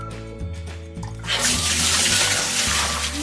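Cold water from a bucket splashes down onto a girl during an ice bucket challenge outdoors, a sudden loud gush after a second of low background hum, pouring steadily for about two seconds.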